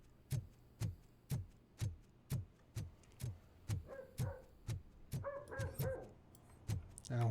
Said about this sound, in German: Der Hund die ganze Zeit am Bellen.